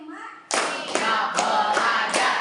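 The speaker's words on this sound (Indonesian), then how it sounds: "tepuk 1, tepuk 1, tepuk 2, tepuk 3, tepuk 4, tepuk 5" A group of children in a classroom clap together in counted patterns, a few sharp claps near at hand after a brief stretch of voices at the start.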